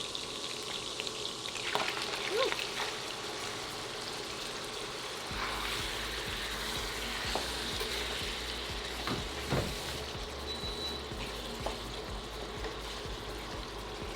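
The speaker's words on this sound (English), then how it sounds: "now that we have a pretty good little bit of grease in the pan, we're going to go ahead and brown this venison" Venison browns in grease in a pan, giving a steady, moderate sizzle and crackle, with occasional stirring scrapes and clinks over a continuous frying hiss and no talk.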